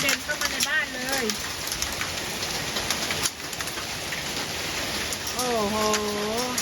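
Heavy rain mixed with large hailstones pours down in a dense, steady hiss and patter onto a balcony, loud and continuous while someone talks over it.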